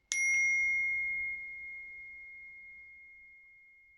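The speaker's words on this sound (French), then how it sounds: "Allez, hop, un petit coup de gong." A single metallic gong stroke rings out loud and clear, then its pure sustained tone slowly fades over several seconds with no talk.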